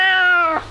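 A cat gives a single loud, close meow that holds steady, then drops off abruptly at the end.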